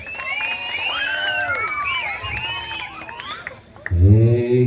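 A lively audience at a live comedy show cheers, whoops and shouts in a sustained, loud wash of crowd noise, with children's voices among it, swelling into a louder burst near the end.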